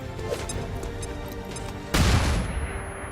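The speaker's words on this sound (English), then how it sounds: "Flashbang!" Flashbang grenade going off in the video game XCOM 2, a sudden loud burst that cuts through busy game noise and decays into a ringing hiss over the following second.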